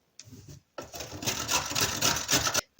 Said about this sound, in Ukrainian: а морквину натираю на велику терку